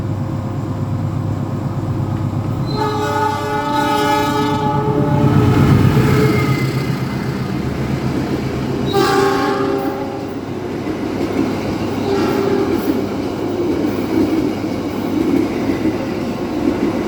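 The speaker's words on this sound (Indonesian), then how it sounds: "selamat menyimak persilangan dengan kereta api Lodaya" The Lodaya passenger train crosses alongside a moving train, sounding loud horn blasts over a continuous heavy rumble and clatter of rolling wheels close by.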